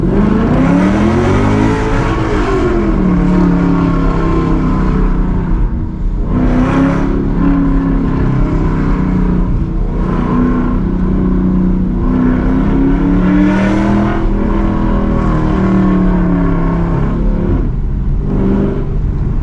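A Dodge Scat Pack V8 with mid-pipes and a Borla S-type catback exhaust revs repeatedly right next to the listener, the pitch swinging up and down over a deep, loud rumble, with no voices.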